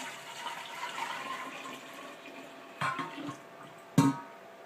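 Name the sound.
pouring sweet tea into a jar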